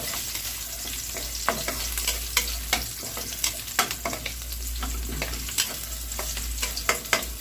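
Garlic and ginger fry in a pan for chicken adobo, with a bright continuous sizzle and regular spatula scrapes and taps, close up and loud.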